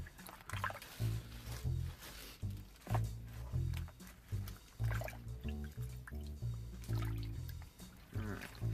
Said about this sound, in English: I'm going to throw the greens in the vinegar water first and scrub them up a little bit